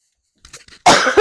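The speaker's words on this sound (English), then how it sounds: "why do I always cough every time I go to video?" A person indoors at a crafting table coughs close to the microphone, a few soft catches followed by a loud, harsh cough burst and a second short one.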